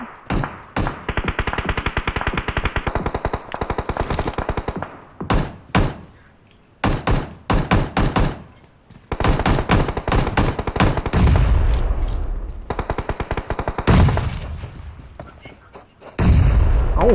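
Rapid bursts of automatic gunfire crackle in long runs in a video game, broken by heavy booming explosions that roll out into low rumbles, all loud and close.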